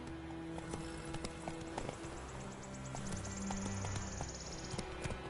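The horse Roach gallops in The Witcher 3, a quick, steady clip-clop of hooves, with a brief neigh and ambient game sounds behind it.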